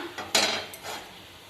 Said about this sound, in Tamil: நம்ம இந்த மாதிரி தோசைக்கல் ஒன்று வச்சுக்கலாம்